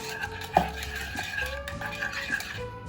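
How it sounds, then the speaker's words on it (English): Whisk working through an eggless chocolate pudding mixture in a bowl, giving soft continuous stirring strokes with an occasional light clink against the side, steady and close. "Keep whisking, keep whisking."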